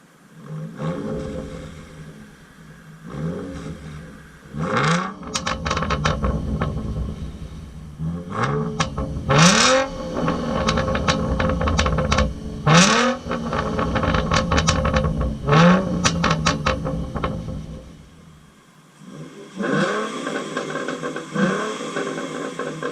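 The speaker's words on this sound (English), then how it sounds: "I did already buy the car with the Roush exhaust, which you will hear in a moment" A 2012 Ford Mustang 3.7L V6 Transformers Edition with a Roush exhaust revs repeatedly, its loud, throaty roar rising and falling in several sharp pulls before settling back toward idle.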